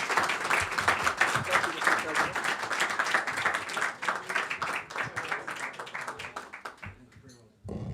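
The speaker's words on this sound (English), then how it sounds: "Can we give a round of applause for our speaker?" An audience at a press club event applauds a speaker with dense, moderately loud clapping that runs for several seconds, thins out and stops near the end.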